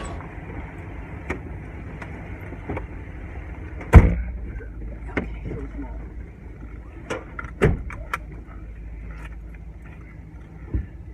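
Police car being re-entered during a ride-along, with doors shutting: one sharp, loud slam stands out among several softer thumps and clicks over a low idling hum.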